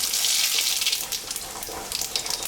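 Dried red chillies and radhuni seeds hit hot oil in a pan where fish was fried, giving a bright, crackling sizzle that flares up then settles into uneven popping, close and alone.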